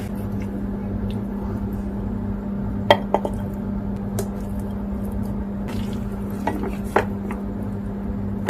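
Plates and cutlery clink now and then as a light pasta dinner is dished up, a few sharp isolated taps and scrapes over a steady low kitchen hum, with no one speaking.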